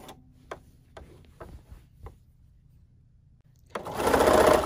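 A sewing machine stitching quilt binding: a few isolated clicks and taps at first, then the motor bursts into a loud, rapid whirring run of stitches at the end.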